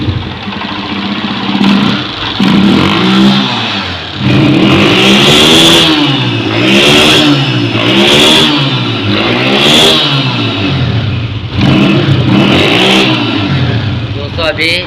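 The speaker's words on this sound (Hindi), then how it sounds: "अब बाइक को स्टार्ट करेंगे" A Honda CG 125 motorcycle engine, checked for misfiring after repair, runs loud and close, revving up and down in repeated surges with steady throttle blips over a continuous rumble.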